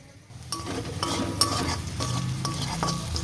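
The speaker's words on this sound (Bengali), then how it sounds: "লেগ পিস দুটোকে আলাদা করে আগে ভেজে নিতে হবে।" Chicken leg pieces sizzle steadily in a frying pan while a utensil stirs and scrapes the metal every half second or so, close up with no talking.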